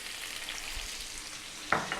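Whole spices and a finely chopped onion with garlic sizzle steadily in a pot over medium heat for Arab-style lamb stew, a constant broadband hiss with a sharper utensil scrape near the end.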